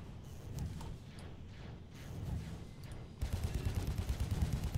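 A mech unit's weapons fire in the video game Airmech Strike over a low rumbling mechanical drone, with a fast burst of repeated shots near the end.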